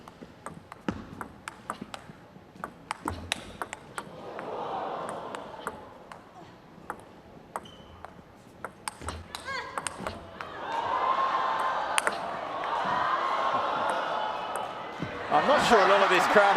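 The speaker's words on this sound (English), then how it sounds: "We've seen so many different styles to knock the ball back on the table" Table tennis ball clicking against bats and table in a women's professional match featuring a defensive chopper, sharp ticks repeating at irregular rally pace beneath an arena crowd murmur and a commentator's steady voice.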